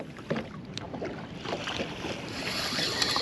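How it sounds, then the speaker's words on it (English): Gusty wind buffets the microphone while lake waves slap and splash against a small fishing boat on Folsom Lake, rough and continuous. "Look at these waves. It's getting freaking windy out here"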